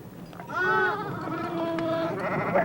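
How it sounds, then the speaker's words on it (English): Sheep belonging to a Navajo family flock bleat in a clear, wavering cry, with a second longer bleat following, fairly close and loud over a low background murmur. "Sheep have been a part of Navajo life since the 1600s."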